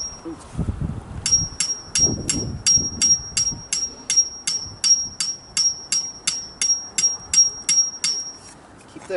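A long run of about twenty ringing metal hammer blows drives a beaver trap stake down among roots in water, evenly paced and close, after some low splashy handling noises at the start.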